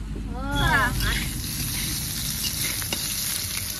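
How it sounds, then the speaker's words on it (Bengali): Potatoes fry in a pan, giving a steady soft sizzle throughout. A brief voice-like warble comes near the start, with faint clatter later on. "আলু লাল লাল করে ভেজে নিয়েছি, এবার নামিয়ে নেব।"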